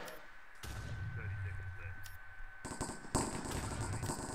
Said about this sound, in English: look, it's tossing grenades